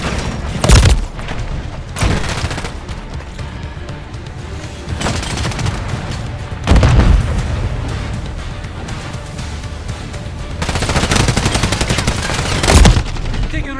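Call of Duty gunfire erupts in loud, sharp bursts, several heavy shots and booms punctuating a rumbling battlefield backdrop, close and intense.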